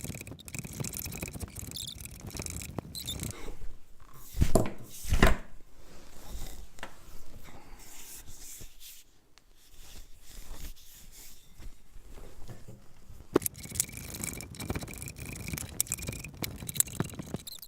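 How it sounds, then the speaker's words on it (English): A Veritas concave spokeshave rounds off a wooden file handle in quiet, scratchy bursts of shaving strokes, with a few sharper cuts in the middle and later, irregular and close, no talk. "I'm going to use my Veritas concave spoke shave to round off my handle."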